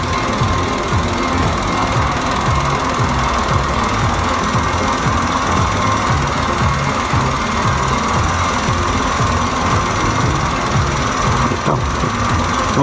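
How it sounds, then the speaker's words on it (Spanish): A car engine starts and runs during a battery starting test: a loud, constant, rough rhythmic chugging throughout, close up and unbroken, with no talk. "Me pide que ponga en marcha el motor."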